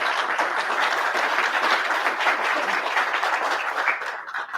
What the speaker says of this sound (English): of applause for her.